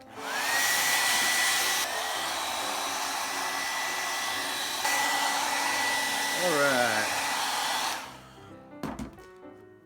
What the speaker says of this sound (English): Let's get the hair dryer out, get our comb, and let's start styling.